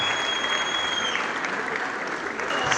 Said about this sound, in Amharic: ጭብጨባው ለስለስ አለ።